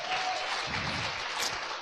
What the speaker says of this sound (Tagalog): Palakpak, kinapo Diyos.